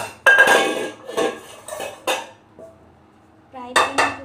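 A frying pan is picked up and handled in a home kitchen while making pizza, giving several loud metallic clanks and scrapes of cookware close by, then a pause and two more clatters.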